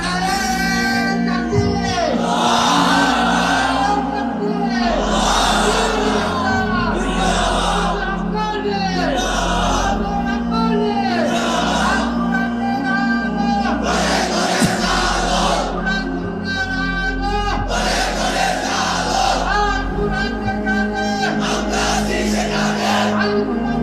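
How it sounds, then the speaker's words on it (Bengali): A large young crowd at an Islamic gathering shouts slogans and takbir in loud, rhythmic unison, with repeated chanted bursts and a leader's voice calling between them, sustained over the whole stretch. "তোমরাই স্লোগান দাও, তোমরাই তাকবীর বলো"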